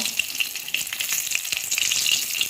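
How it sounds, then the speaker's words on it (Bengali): A fish head fries in mustard oil, giving a dense, continuous crackling sizzle with fine popping spatters, close and fairly loud, with no voices. "এবার আমি মাছের মাথাটাকে ভেজে নেব"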